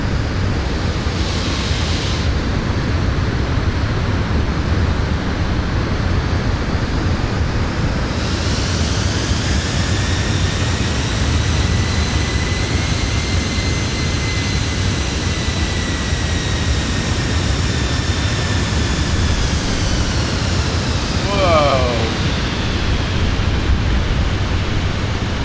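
An airliner lands in Microsoft Flight Simulator 2020, seen from outside: a steady broad jet roar with rising and falling engine whine, continuous throughout with no talk.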